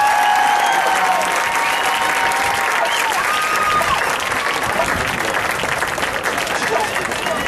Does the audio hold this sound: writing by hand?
no